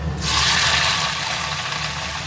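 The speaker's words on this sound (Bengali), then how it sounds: "ফোড়নে দিয়ে দিচ্ছি কালো জিরে এবারে আলুটা ছেড়ে দিলাম" Potatoes go into hot oil tempered with black cumin, setting off a loud, close, steady hissing sizzle that continues evenly throughout.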